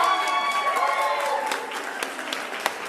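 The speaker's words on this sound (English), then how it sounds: "Big round of applause for Karis one more time." A comedy show audience gives another round of applause for a performer, dense clapping and cheering that thins toward the end, leaving a few separate claps.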